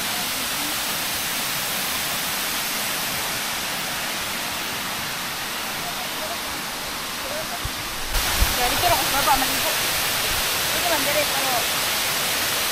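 Roaring 120-meter Dao Falls in Samboan, Cebu, a steady broadband rush of falling water that fills the whole clip, getting louder about two-thirds through, with faint voices at moments.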